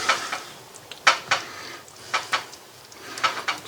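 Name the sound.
serving Bicol Express with a spoon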